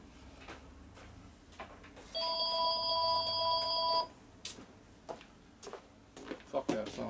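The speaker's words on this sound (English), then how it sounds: "I ain't answering the goddamn phone either." A landline telephone in a home garage workshop rings with a steady electronic warble for about two seconds among scattered knocks and shop clatter, heard fairly close and alone without speech.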